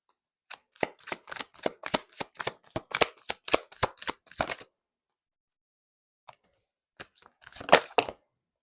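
Tarot cards are shuffled in a rapid crisp riffle of about a dozen snaps over four seconds. A pause follows, then a few scattered taps and a short final burst of card noise. No voices.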